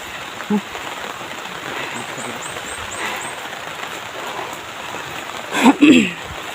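Steady hiss of rain falling continuously, with a few brief louder voice-like bursts near the end and faint chirps in the background.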